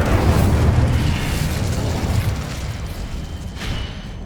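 A fire spell cast in Hogwarts Legacy lets out a loud burst of flame, a heavy whooshing roar that starts strong, thins out over a few seconds, and ends with a short flare near the end.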